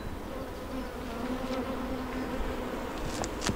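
Honey bees buzz steadily and softly around an open beehive during an inspection, with a continuous hum and occasional louder passes of bees near the microphone.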